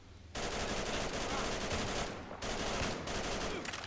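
An Armalite AR-180 police carbine in Fallout 4 fires in loud, close bursts of rapid automatic gunfire, with two brief pauses between long strings of shots and no voices.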